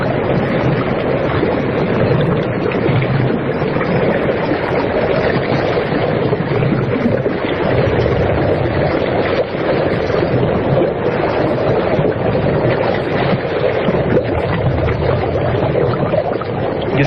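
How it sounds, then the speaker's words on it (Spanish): Steady sea recording made in the Arctic, with a dense, continuous wash of water, surf and wind rumble that holds at one level and never lets up, with no voices over it. "Yo escucho personalmente un sonido del mar, y había una especie como de burbujeo o algo extraño, como muy interior"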